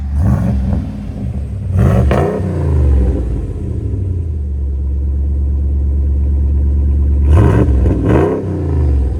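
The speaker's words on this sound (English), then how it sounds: "Now it sounds like a truck." A RAM truck's 6.4L HEMI V8 with a loud aftermarket exhaust revs close by: two sharp throttle blips, a deep sustained rumbling rev, then two more quick blips, with no talking.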